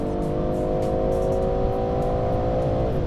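A BMW M340i's B58 engine revs hard on a track, its steady tone climbing and then dropping briefly as the 8-speed gearbox shifts, loud and close.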